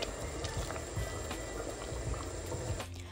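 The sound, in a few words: sauce with butter and water simmering on low heat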